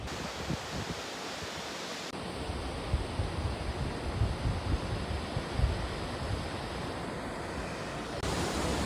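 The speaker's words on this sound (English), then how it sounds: "pretty cool waterfall right here." Steady broadband rush of falling water fills the scene, a continuous roar with a brief quieter stretch at the start, no voices.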